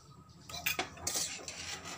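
Utensil scraping and clinking against a bowl while a chilli and ginger mixture is stirred for poha cutlets, with several close, uneven strokes that fill most of the moment and no talk.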